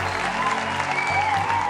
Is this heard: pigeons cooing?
no